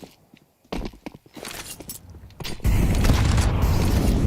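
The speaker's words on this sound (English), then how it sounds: "Another great early grenade for G2." A grenade goes off in a Counter-Strike match, a heavy boom landing after scattered footsteps and clanks, then a dense, loud roar of blast and fire that sustains to the end.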